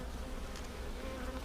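A swarm of honeybees hums in a steady, dense drone close by, continuous throughout with no voices over it.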